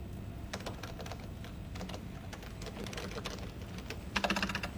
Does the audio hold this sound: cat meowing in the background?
no